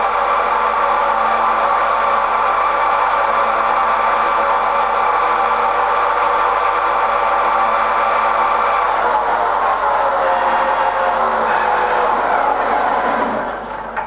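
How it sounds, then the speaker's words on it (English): Bemato FL-2160 CNC lathe with a Fagor 8055 control taking a finishing turning cut, a steady loud whirring machine drone with a high tonal whine that holds for about thirteen seconds, then starts to fade. "Now it's finishing cut on the turning."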